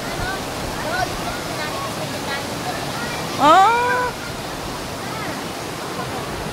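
Water gushing from many hoses, a steady broad rushing roar that stays constant throughout, with a brief spoken exclamation near the middle.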